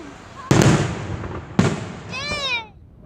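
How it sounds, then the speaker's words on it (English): Independence Day fireworks at the Downingtown display burst twice in sharp, loud booms about a second apart, followed by a rising whistling trail as a person speaks briefly nearby. "Bear could probably hear these fireworks."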